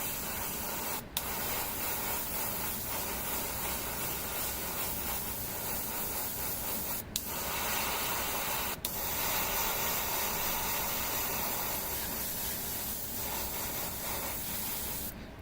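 An airbrush sprays paint onto an Adeptus Mechanicus Pteraxii Skystalker tabletop miniature: a close, steady airy hiss that runs almost unbroken, with a few sharp clicks where the flow briefly stops.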